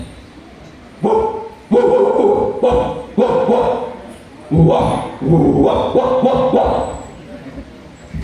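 A mimicry artist on stage imitates an expensive pet dog barking, delivering a series of loud, close vocal barks and yips in bursts with short gaps between them.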